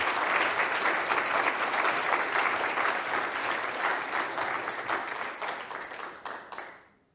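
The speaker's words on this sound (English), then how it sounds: "Another round of applause for you." An audience applauds at a university inaugural lecture with dense, sustained clapping from a full hall that holds steady and then fades out over about seven seconds.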